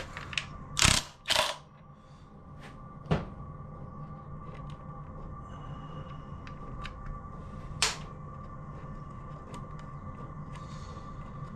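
An engine belt tensioner being taken off during engine work, with a couple of sharp metallic clicks and knocks near the start, then sparse faint clunks over a steady low background hum, no speech.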